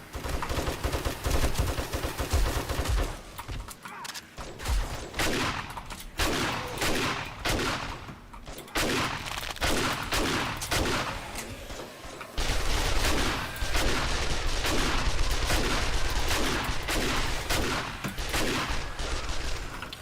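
Sustained automatic AK rifle fire in the survival game 7 Days to Die, at an insane 1500-plus game stage. Long, loud, rapid bursts continue nearly nonstop with a few brief pauses.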